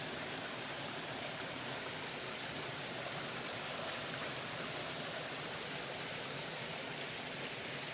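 A stream of flowing water rushes in a dense, steady wash of broadband noise, loud and continuous throughout with no voices.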